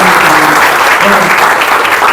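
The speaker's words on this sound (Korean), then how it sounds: "김홍신 작가님에게 다시 한번 뜨거운 박수 부탁드리겠습니다" A lecture audience applauds author Kim Hong-shin with loud, dense, continuous clapping that fills the whole moment, close and even throughout.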